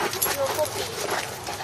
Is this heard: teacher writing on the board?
no